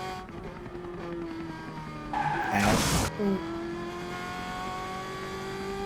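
A vintage GM Pontiac race car rolls through a nostalgic drag-racing qualifying session, its engine droning steadily, then rising to a brief loud roar with tire noise midway before settling back to a steady rumble.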